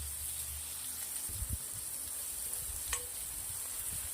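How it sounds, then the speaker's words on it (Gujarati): Onions sautéing in a pan with garlic and chillies, a low steady sizzle with a few brief stirring scrapes and clatters, no talking. "2 મિનિટ જો ડુંગળીને સાંતળી લઈશું."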